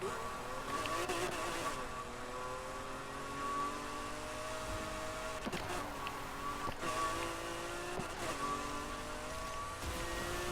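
An engine-swapped car with a V12 of over 1,000 horsepower revs up repeatedly, its rising engine tones pausing briefly between gear shifts, loud and close throughout.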